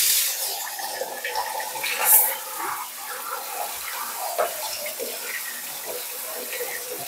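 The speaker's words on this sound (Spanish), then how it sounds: "vamos a echar la lechuga en este sedazo para enjuagarla bien" Tap water splashes steadily into a sieve of lettuce being rinsed in a kitchen sink, a continuous close hiss with small spatters, while people talk quietly.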